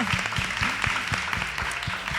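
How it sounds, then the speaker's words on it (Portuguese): An audience applauds a guest at an arts, culture and education talk event, steady clapping from a crowd with a few sharper individual claps, fairly close and without speech. "Vamos aplaudir o Tesk aí,"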